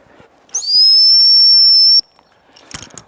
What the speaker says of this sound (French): c'est un coup de sifflet long, donc le coup de sifflet long